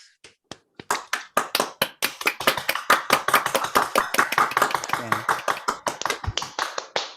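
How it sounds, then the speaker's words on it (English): Online meeting participants clap into their own microphones, giving sharp, close individual claps from several people that start sparse, build into a dense uneven patter and continue to the end, with compressed, clipped-sounding attacks. "Can I ask that everybody turn on your mic for a second and do a welcoming applause?"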